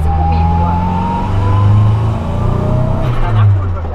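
A VW Kombi van fitted with an Audi S3 engine revs hard and climbs through gears, a loud, close roar rising in pitch in two surges, with voices faintly underneath.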